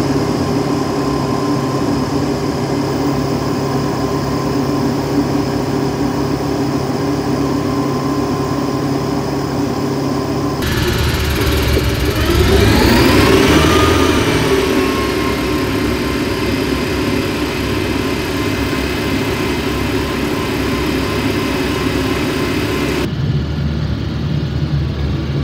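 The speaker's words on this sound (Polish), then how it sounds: "Rozpocznijmy test siłociągu ciągnika Arbos 4110 2×4 na dolnym zaczepie." An Arbos 4110 2x4 tractor runs under heavy load during a pulling force test on the lower hitch, a loud steady diesel drone that surges briefly in the middle before easing off, heard close with no talking.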